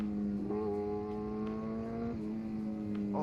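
Loud, close engine note of a 2012 Suzuki GSX-R750 motorcycle holding a high steady drone, dipping slightly at a gear change and rising again, with no talking.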